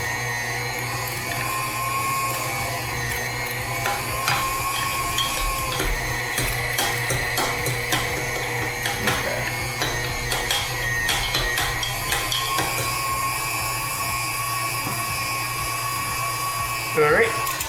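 A home meat grinder works through meat with bread pushed in, a steady close mechanical whir and grinding hum with intermittent clicks and clunks from the feed, running continuously under a little background noise.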